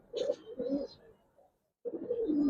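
Giribaz pigeons in a loft coo in two rolling, turning phrases with a brief pause between, close and fairly clear.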